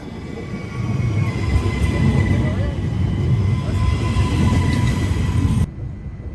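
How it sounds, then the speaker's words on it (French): A Siemens Desiro train rumbles steadily into a station in Belgium, a low rolling drone of wheels and motor with faint high whines, ending with a sudden drop to quiet. "Notre prochain train, en provenance de Libramont et à destination de Athus et Arlon,"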